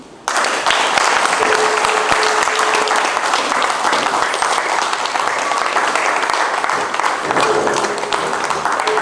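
An audience at a farming symposium bursts into loud, sustained applause that holds steady for several seconds, dense clapping from a large crowd in a hall.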